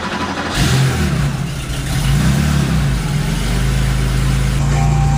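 A Porsche 911 Targa engine catching and running, a loud close rumble that swells and holds steady as it revs, with a broad roar throughout.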